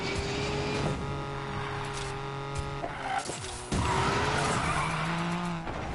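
A car drifts in the video game NFS Payback, driven on PS4, with sustained loud tire squeal over a revving engine that drops briefly and then resumes, close and continuous.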